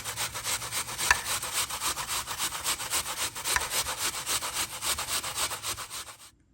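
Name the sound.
apple being grated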